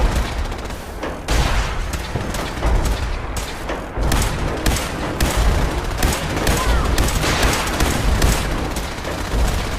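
Dense bursts of gunfire and heavy booms from a Fallout 4 battle, loud and close, with rapid overlapping shots and explosions continuing throughout and a voice briefly calling out amid the shooting.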